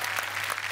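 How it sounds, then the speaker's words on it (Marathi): Brief burst of audience applause on a Marathi TV comedy show stage, a dense steady wash of many hands clapping at once with a faint low hum underneath. "जोरदार टाळ्या."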